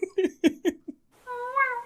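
A woman imitates a cat with a single drawn-out, wavering meow at the end, just after a few short spoken syllables, close and clear.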